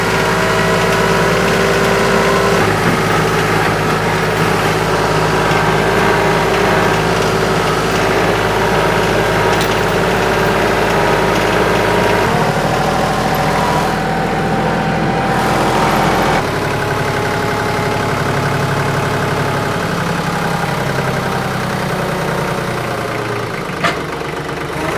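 A small tractor engine idles loudly and steadily nearby for the whole stretch while pallet forks are fitted, its low throb shifting pitch a couple of times, with a faint clank near the end.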